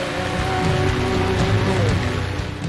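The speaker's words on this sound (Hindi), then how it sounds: "वफाकी दारुल हुकूमत इस्लामाबाद में 2 रोज से जारी बारिश ने हर मंजर खुशगवार कर दिया।" Steady rain falling in Islamabad during two days of wet weather, a continuous hiss of drops on surfaces with some low rumble of traffic beneath, loud and even throughout.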